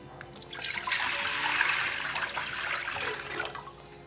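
Water gushes steadily into a pressure cooker, 1.5 litres poured for cooking chicken breast, a close, full splashing rush that rises and holds for several seconds with no talking.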